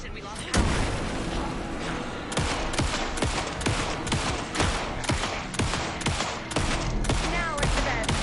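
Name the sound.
gunfire in a video game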